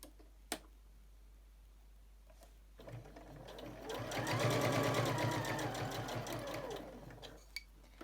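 A sewing machine fitted with a quarter inch foot stitches binding, a steady close-up whirring run that swells in the middle and tapers off, with a few isolated clicks before and after.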